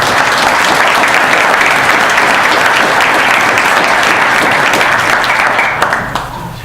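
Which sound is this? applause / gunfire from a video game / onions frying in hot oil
applause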